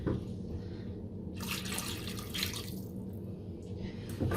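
Water pours steadily into a cooking pot to cover meat for Dutch snert pea soup, a continuous splashing gush that swells and eases in waves, close and fairly loud.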